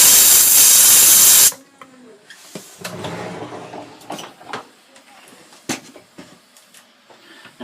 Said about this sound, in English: We're going to open up the bathroom faucet.